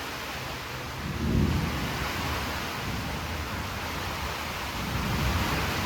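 Heavy rain pours with thunder, a constant dense roar of rainfall broken by a deep rumble early on and another swelling low roll near the end.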